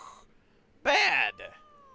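A cat in the video game Final Fantasy XIV lets out one loud, drawn-out meow followed by a shorter trailing cry, close and clear.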